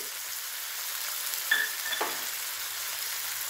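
Asafoetida, ginger and spices frying in oil for kothi kulambu, giving a steady soft sizzle with faint stirring scrapes and a brief clink in the middle.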